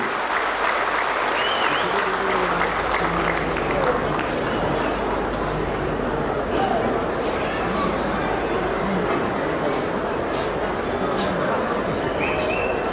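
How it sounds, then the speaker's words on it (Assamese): A crowd at a Mising community gathering in Assam claps steadily to welcome an honoured woman guest, dense continuous applause with chatter and voices mixed in throughout. "সকলোৱে হাত চাপৰি বাইদেউক আদৰণি জনাবলৈ অনুৰোধ জনাইছোঁ"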